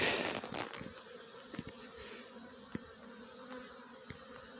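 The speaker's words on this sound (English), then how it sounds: "This is another swarm." A caught swarm of bees buzzes densely while being smoked into a box. Scattered knocks and clicks from handling cut through the steady hum.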